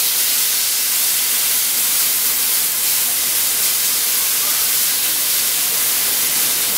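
Tomatoes hit a hot pan while a sweet-and-sour tomato chutney cooks, giving a steady, loud, unbroken sizzling hiss with no talk over it.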